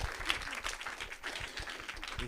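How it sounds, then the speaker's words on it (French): Warm audience applause greeting Ingrid Caven and Alexander Garcia-Luttmann at a masterclass during the FIDMarseille film festival, a dense steady patter of many hands clapping throughout, fairly close and even in loudness. "Je vous demande d'applaudir chaleureusement Ingrid Caven et Alexander Garcia-Luttmann."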